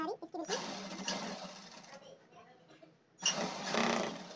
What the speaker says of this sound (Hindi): और अब इसकी किनारी पे सिलाई लगाएंगे।